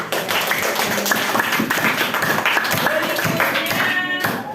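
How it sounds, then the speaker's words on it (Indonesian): Classroom applause for a student during a math lesson, a dense, steady burst of many hands clapping together at close range, filling the whole moment with no talk over it. "Tepuk tangan untuk April."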